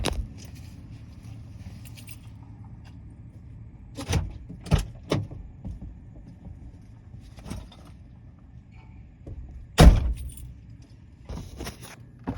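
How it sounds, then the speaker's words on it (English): A car door shuts outdoors near parked cars, one of several short sharp knocks and thuds over low street rumble; the loudest solid slam lands near the end, with lighter clicks and jangles around it and no talk. "I just heard a car door close."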